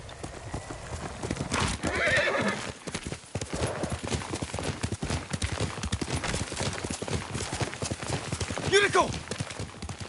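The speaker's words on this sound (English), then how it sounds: "Yuriko's horse." A horse in the game Ghost of Tsushima whinnies and its hooves clip-clop steadily on the ground, close and clear, with a loud neigh near the end and a continuous bed of ambient noise beneath.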